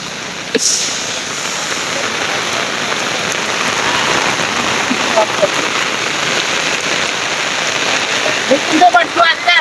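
Heavy rain pours steadily, a dense, loud hiss of drops striking surfaces, continuous throughout with a few brief louder spatters near the end.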